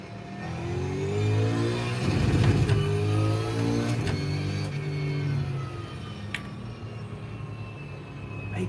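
Holden Commodore V8 supercar engine revving loudly and close, a sustained throaty roar with rising and falling pitch that swells around the middle, with no talk over it.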